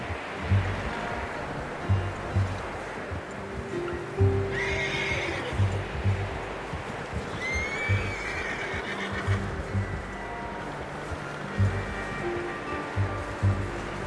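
Horse in the Red Dead Redemption 2 video game neighing and whinnying several times over a steady outdoor ambience, with intermittent clip-clop of hooves and low rumbling in the background.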